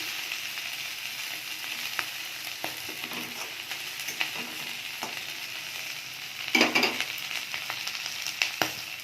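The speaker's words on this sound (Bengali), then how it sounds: "আলু চিংড়ি ভাজা হয়ে গেছে।" Potatoes and prawns frying together in a pan as an Indian dish cooks, giving a steady bubbling sizzle throughout with scattered sharper crackles and a brief louder burst of spitting near the end.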